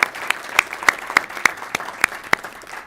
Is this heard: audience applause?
yes